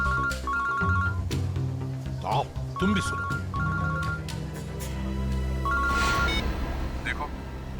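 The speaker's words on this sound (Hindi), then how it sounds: "दया फोन कर रहा है।" A mobile phone ringtone plays a repeating electronic melody, looping several times at moderate volume beneath people talking in a TV crime drama scene.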